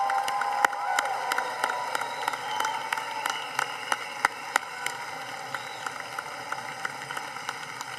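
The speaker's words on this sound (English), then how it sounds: "So all the moms stand up for us and let's give you a round of applause." Scattered, thinning applause from a commencement audience honouring mothers at a May 2025 Mines undergraduate ceremony, with sharp individual claps popping out over a soft crowd murmur.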